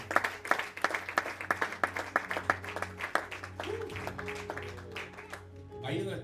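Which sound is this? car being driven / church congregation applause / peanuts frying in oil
church congregation applause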